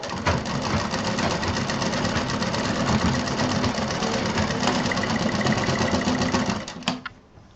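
Sewing machine stitching a zipper onto a baby doll bag, running steadily and loudly for about seven seconds before stopping.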